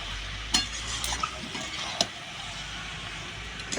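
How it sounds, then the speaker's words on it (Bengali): Coconut chicken cooking in a pan with a spoonful of sugar added, stirred with a spoon: a steady low sizzle broken by a few sharp scrapes and knocks against the pan. "একটু নেড়ে দেবো আমি।"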